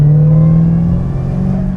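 A 1025-horsepower Dodge Demon 170 accelerating hard, a loud close engine roar with a steady, rising drone and no talking over it.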